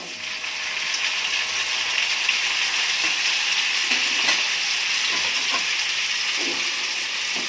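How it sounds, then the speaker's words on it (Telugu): Chopped tomato pieces fry in a pan over onions for a tomato curry, giving a steady, close broadband sizzle and hiss, with faint scraping and stirring knocks from a spoon mixed in. "ఇందులోకి టమాటా ముక్కలు, కట్ చేసుకున్న టమాటా ముక్కలు"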